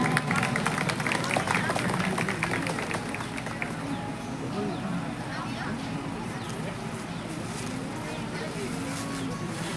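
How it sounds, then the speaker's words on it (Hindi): Dense applause from a crowd welcoming the chief guest at a gathering, a steady clatter of clapping mixed with murmuring voices that carries on throughout. "जोरदार तालियों के साथ आज के हमारे मुख्य अतिथि का हम सभी अभिनंदन करते हैं और स्वागत करते हैं"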